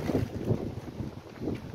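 Outdoor wind gusting against the microphone, a low rumbling buffet that swells and fades in uneven pulses, close and steady with no talk.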